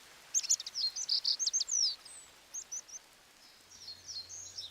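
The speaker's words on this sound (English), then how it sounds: "as the birds begin to raise their voice once more" In an English hay meadow, birds sing rapid, high chirping phrases in quick bursts after rain, fairly faint against a quiet background, with a low hum entering near the end.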